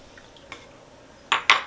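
A small bowl clinks twice in quick succession, bright and close, after a faint tap, as all-purpose flour is added for buttermilk sugar cookies in a quiet kitchen.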